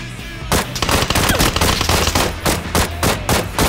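Rapid automatic gunfire in the shooter game PUBG, loud and close, with repeated bursts of shots in quick succession and no talk.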